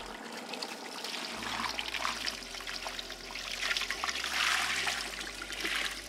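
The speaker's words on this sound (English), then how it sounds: "So we got 6 quarts of water we're adding." Six quarts of water pour steadily into a pot over pork and chicken livers for Cajun boudin sausage, a continuous close splashing stream that builds slightly louder midway.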